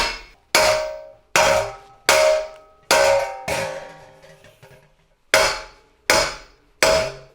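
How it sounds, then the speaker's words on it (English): A hammer strikes a cymbal blank in sharp ringing clangs, about eight hits at a slow uneven pace, each decaying with a bright metallic ring. "So definitely bring the hammer up higher."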